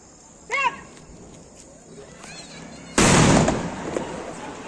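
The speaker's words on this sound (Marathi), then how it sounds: "तर मी खूप दिवसांनी फटाके फोडले" Diwali firecrackers go off nearby: a short whistling crack comes first, then a loud bang that trails into a long crackling burst.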